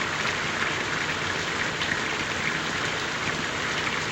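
Steady, dense rain pours down in the 1932 film Rain, a continuous even hiss of drops on surfaces with no pauses and no voices.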